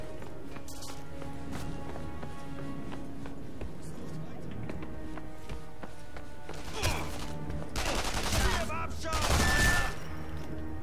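Gunfire rattles in the Sniper Elite V2 video game, with a dense background of shots that swells into louder bursts near the end, while players talk over it.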